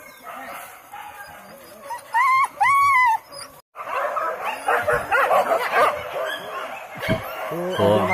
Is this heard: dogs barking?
yes